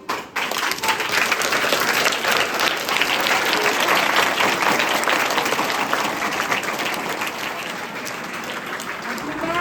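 Children at a magician's show break into loud, sustained clapping that rises quickly, holds dense and steady, then slowly tapers toward the end.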